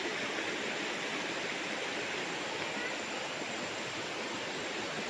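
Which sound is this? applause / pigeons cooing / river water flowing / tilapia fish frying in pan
river water flowing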